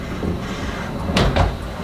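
Door to the outside of a Japanese ryokan room in Kawaguchiko being opened, with a couple of quick sliding, knocking bursts over low room rumble.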